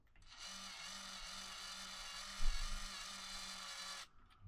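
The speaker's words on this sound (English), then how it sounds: "Power tool just saves time." A power tool whirs steadily for about four seconds as it snugs up bolts on a 2025 Trek Farley 5 fat bike, with a brief thump midway and a sudden stop, no talk over it.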